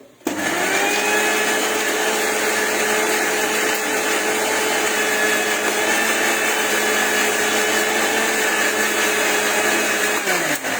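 A mixer grinder whirs loudly and steadily while grinding coriander chutney, starting abruptly and running at a constant pitch for about ten seconds before cutting off.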